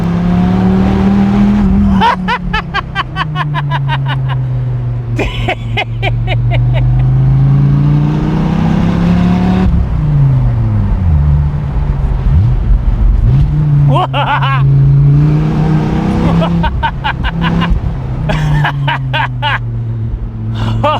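A powerful Dodge Viper engine revs and drops repeatedly, loud and close, its pitch rising and falling in long surges.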